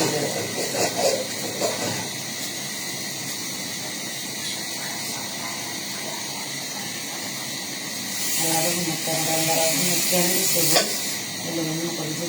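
Oil frying in a pan on a home stove gives a steady broadband sizzle throughout, with a louder, busier stretch near the end where a voice speaks over it.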